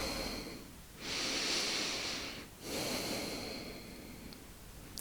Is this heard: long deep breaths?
yes